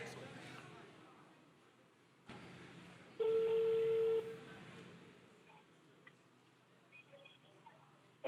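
An outgoing phone call rings on speaker with a steady tone lasting about a second, over background noise and talk.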